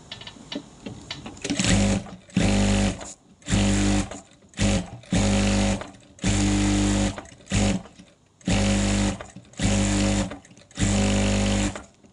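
A sewing machine stitches fabric for a spiral patchwork piece in roughly nine separate bursts of rapid mechanical whirring, each a second or so long, close and loud, with short pauses between runs.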